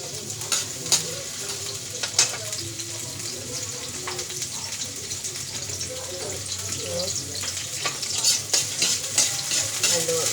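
Chopped onions sautéing in oil in a pan for a bottle gourd dish, a steady close sizzle with scraping stir strokes and occasional clinks, continuous throughout.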